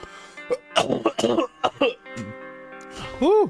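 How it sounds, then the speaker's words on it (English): A sick person coughs several times in quick, harsh bursts close to the mic, with throat-clearing rasps, then lets out a short vocal exclamation. "some of these coughs make me feel like I'm gonna throw up."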